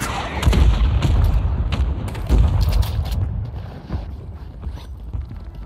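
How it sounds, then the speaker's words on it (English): Mortar strike explosions in Call of Duty Warzone, a cluster of heavy booming blasts with deep rumble. They are loudest in the first three seconds, then fade into a lower, quieter rumble. "Mortar strike on the way."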